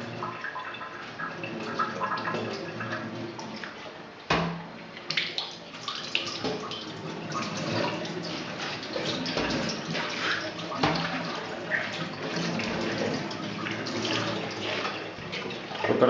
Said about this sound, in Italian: procediamo a un primo lavaggio a vuoto con acqua fredda e abbondante